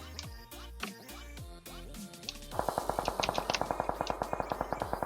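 Automatic gunfire in the mobile battle-royale game PUBG Mobile: a few scattered shots, then a long, rapid, evenly spaced burst of loud cracks that continues to the end.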